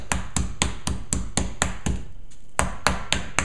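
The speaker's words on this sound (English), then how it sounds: "We're going to take the pounder, don't use this end, use the flat end." A flat-ended meat pounder beats a steak through plastic wrap in a kitchen, giving a rapid, steady series of sharp close thuds with a brief pause midway.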